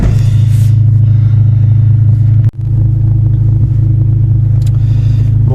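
A Rover 216 GTI with newly fitted large front brakes drives along in low gears, heard from inside the car as a loud, steady engine drone with a brief dip and a few faint clatters.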